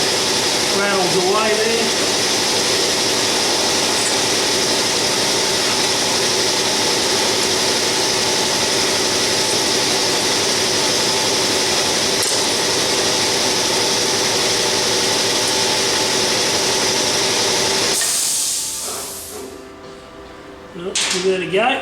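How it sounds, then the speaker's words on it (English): Air compressor running with a steady rattling drone during a trailer rebuild, loud and continuous before cutting off near the end, with a voice briefly audible. "All that compressor rattle"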